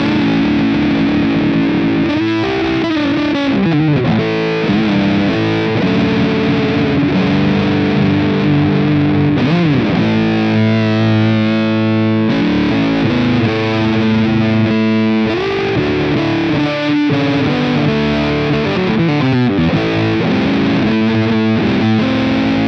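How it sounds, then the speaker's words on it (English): An electric guitar plays through a Fender Mustang GTX amp with the Ram fuzz effect, modeled on the Electro Harmonix Big Muff Pi Ram's Head, giving a thick, saturated, sustained tone over a continuous loud riff of chords and bends. "Included in the new effects is the Ram fuzz, which is inspired by the Electro Harmonix Big Muff Pi, the Ram's Head model."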